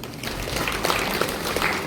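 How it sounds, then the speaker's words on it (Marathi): Steady, dense applause from an audience of farmers at a village meeting on onion crop diseases in Nimgaon Sava. It fills the whole stretch at an even level without pause. "त्यांच्या या हुशारीला पण आपण एकदा टाळ्या वाजवू"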